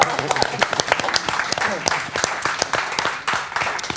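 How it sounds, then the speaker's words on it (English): Audience members at a VR panel at CMC Manimation 2017 clap in a sparse, uneven round of applause with distinct individual claps, while voices talk underneath. "I think that needs a round of applause."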